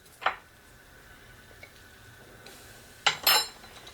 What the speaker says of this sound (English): We're just going to give this a stir. Try and get all the lumps out of there.